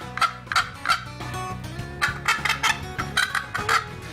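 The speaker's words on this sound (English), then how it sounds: "This is what a hen turkey sounds like." A hen turkey calls in a run of sharp, repeated yelps, loud and close, in two bursts of several notes each with a short gap between them.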